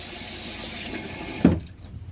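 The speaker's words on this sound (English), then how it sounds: "you can go ahead and press down on the flush lever" A Dometic 510 gravity-flush RV toilet flushes with a steady rush of running water that swells into a short splash, then cuts off quickly into near silence; close and moderately loud, no talking.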